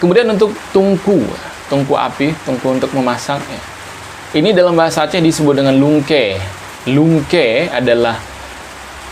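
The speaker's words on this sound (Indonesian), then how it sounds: "kebetulan lagi hujan ya, jadi mohon maaf kalau suaranya agak sedikit terganggu." Rain falls outside as a steady background hiss beneath someone speaking continuously close to the microphone, the downpour faint but constant through the pauses in his talk.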